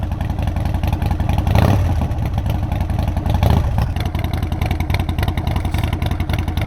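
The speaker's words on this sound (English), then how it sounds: "I'll let you hear that exhaust." A custom Harley-Davidson Sportster Forty-Eight exhaust rumbles at a steady, throbbing idle close by, with two brief throttle blips swelling the note before it settles back.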